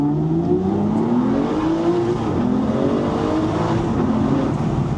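Aston Martin V12 Vantage S accelerating hard, the V12 engine note climbing through rising revs with a brief dip at a gear change, loud and close with road noise underneath.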